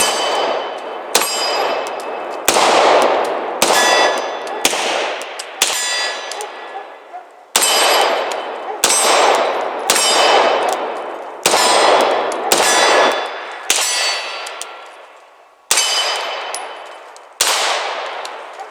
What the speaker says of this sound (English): So we'll give this double action shot another try.